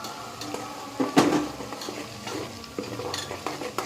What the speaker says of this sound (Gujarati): એને બે મિનિટ સાતડી લઈએ